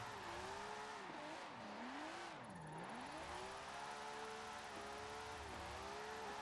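A Nissan S13 drifts in Forza Horizon 4, its engine droning and swooping in pitch as revs rise and fall, with tire noise throughout, loud and continuous with no talking.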